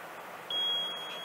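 A multimeter's continuity test on a capacitor sounds a single clear, high electronic beep lasting about half a second, starting abruptly after a quiet hiss.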